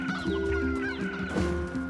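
Hens in the video game NieR Replicant cluck in quick, close, overlapping bursts with no one talking over them.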